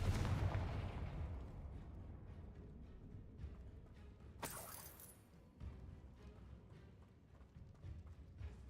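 In Hogwarts Legacy, a Confringo fire blast spell bursts with a sharp, brief explosion midway through, set against quiet, low game ambience with a softer thud at the start.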